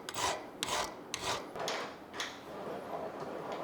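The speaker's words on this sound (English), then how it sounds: "I took it over to my new fireball vise, and I used some files, and I cleaned up all of the lines" Hand files rasp against a steel knife guard held in a vise, several quiet rhythmic back-and-forth strokes close up, each a short scratchy burst.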